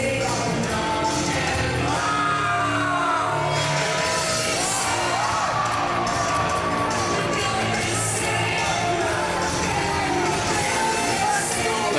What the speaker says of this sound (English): Cloverdale Rodeo crowd.